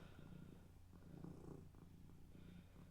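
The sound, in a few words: cat purring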